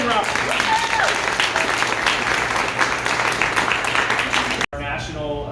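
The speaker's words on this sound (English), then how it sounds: "I hope you'll give a warm round of applause to your state senator, Dylan Roberts." Loud, dense applause from an event audience greets a state senator at a Democratic political gathering in Granby, sustained for several seconds before cutting abruptly. Voices are heard over the clapping at the end.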